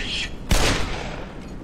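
Gunfire bursts in the Black Mesa shooter, with a sharp loud blast around the middle followed by a rattling decay over steady background noise, with a voice talking nearby.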